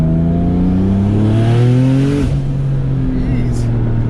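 A 1000HP Porsche 911 997 engine pulls hard and loud, its pitch rising steadily before a quick shift and a renewed climb, with a voice heard over the roar.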